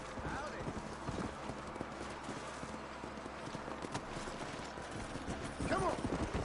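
Horse hooves clip-clop at a steady gallop in the Red Dead Redemption video game, loud and continuous, with a brief whinny near the end and voices talking over the ride.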